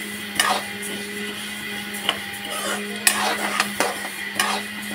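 Mung dal being lightly dry-roasted in a pan, stirred with scattered clinks and scrapes of a utensil over a steady background hum.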